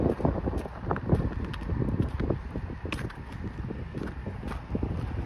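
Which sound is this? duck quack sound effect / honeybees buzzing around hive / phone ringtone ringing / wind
wind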